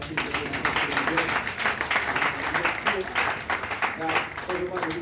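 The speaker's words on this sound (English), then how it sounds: "I want to give them a big round of applause." An audience applauds the presenters at a Catholic early childhood education proceedings, a steady wash of hand claps lasting throughout with voices audible underneath.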